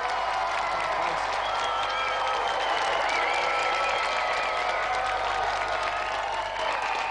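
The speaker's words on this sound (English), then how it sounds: "And another round of applause for our winner, Dave Goodyear, and our gallant finalist," Studio audience at a televised video game quiz show applauds steadily and loudly for the winner and finalist, a continuous wash of clapping with faint cheering and no talk over it.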